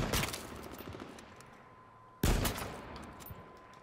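Gunfire in the video game H1Z1 on PS4: a rapid rattling burst of shots at the start, then a sharp, loud blast followed by a few quicker trailing shots, with no talk over it.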